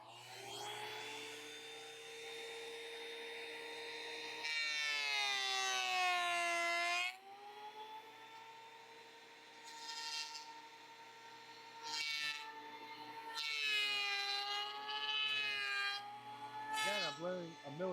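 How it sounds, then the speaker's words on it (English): A loud, steady whine of a planer milling black walnut drones with shifting pitch, rising and falling in bursts as the cut changes. "I'm milling black walnut here"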